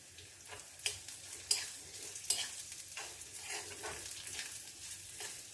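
Very thin slices frying in ghee for unniyappam give a close, steady crackling sizzle broken by a few sharper spikes from stirring, with no voices.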